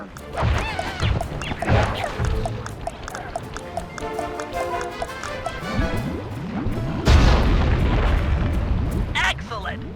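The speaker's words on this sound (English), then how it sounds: "Place the dynamite when you get near the anchor, or kaboom!" In the Sly 3 video game, a dynamite stick blows up a balloon anchor over the Venetian skyline, a loud crashing boom with scattered debris clatter, followed by a heavier rumbling burst near the end, under game music.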